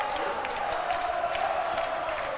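Basketball crowd in a college gym at a Yeshiva versus Purchase College men's game, cheering and roaring steadily at moderate level after back-to-back dunks, a dense wash of voices with no clear single shouts.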